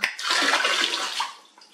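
Water sloshing and splashing in a household bathtub, a close, loud, continuous swirl of broadband churning that holds steady, then eases off toward stillness at the end.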